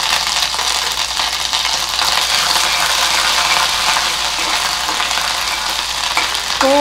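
Ginger-garlic-chili paste sizzles in hot oil with cumin seeds, a loud, steady frying hiss filling the whole stretch, with faint stirring rattles near the end.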